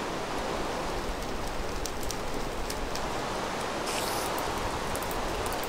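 Steady rain pours down in the blocky sandbox game Minecraft, a close, continuous hiss of falling drops with no pauses, dense and even throughout.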